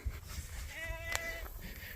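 A single short, faint sheep bleat sounds from some distance during ram lamb weaning on a farm, over a low background rumble.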